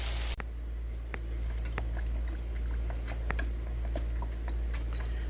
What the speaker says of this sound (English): I just go ahead and take the lid off and pour a lot of hot sauce